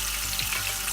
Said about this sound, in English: fry the fish. Fry both sides,